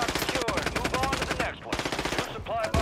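Rapid automatic gunfire in a tactical shooter video game, dense overlapping bursts that nearly fill the short stretch, loud and close, with a brief lull partway and voices talking beneath.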